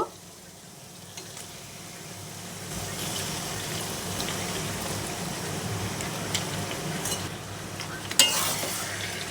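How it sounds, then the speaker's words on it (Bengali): Mutton stirred into spice paste frying in oil: a soft hiss swells into a fuller, steady sizzle, with occasional scrapes of the spoon and one sharper clink near the end. "আবারও আমি একটু নেড়ে চেড়ে মশলার সাথে মাংসটাকে মিশিয়ে দিয়ে"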